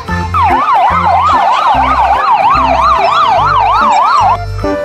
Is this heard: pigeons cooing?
no